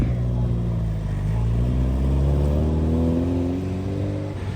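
A Porsche 911 Carrera S drives past, its engine producing a steady, loud, rising mechanical drone that fills the whole stretch without any speech.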